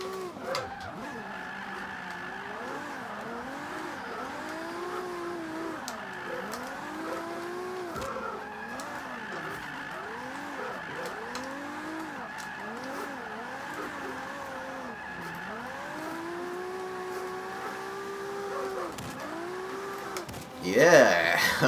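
A Toyota Supra drifts in Forza 5, its engine revving in repeated rising and falling sweeps, loud and steady throughout, with a brief burst of voice near the end.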